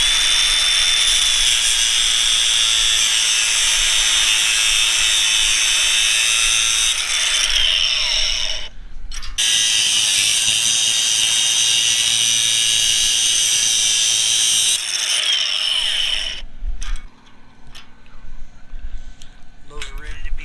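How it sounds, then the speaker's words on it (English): An angle grinder with a cutting disc trims steel parts during a mobile welding repair of a basketball hoop. Its loud, steady, high whine runs almost without a break, pauses briefly near the middle, then cuts out toward the end. "grab the hammer and the zip disc and grinder."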